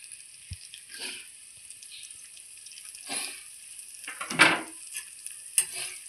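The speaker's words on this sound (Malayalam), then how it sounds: "ഇനി നല്ലോണം ഒന്ന് ഇളക്കി മിക്സ് ആക്കണം." Beaten egg is stirred in a pan, with soft scraping and swishing strokes in a few distinct bursts over a quiet sizzling background, close and fairly faint.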